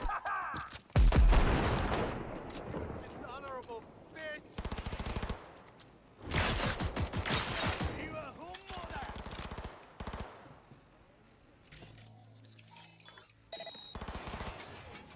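Bursts of rapid automatic gunfire in a video game rattle out in several loud clusters, separated by quieter stretches with game ambience.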